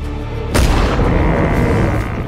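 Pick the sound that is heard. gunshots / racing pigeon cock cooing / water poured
gunshots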